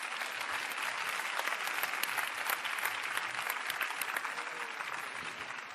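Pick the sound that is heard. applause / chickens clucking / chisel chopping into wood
applause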